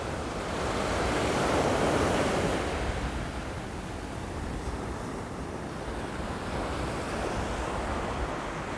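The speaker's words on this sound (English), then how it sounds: "But now the wind's up a bit" Wind gusting along an ocean shore, a steady broadband rush over breaking surf that swells louder in the first seconds, then settles into a constant roar with no voices.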